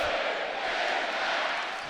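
Basketball arena crowd roaring and cheering in a dense, loud, sustained wall of noise during an Arkansas scoring run against Fordham.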